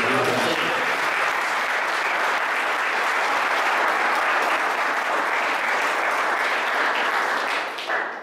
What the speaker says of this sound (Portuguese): Aplauda ao Rei que é.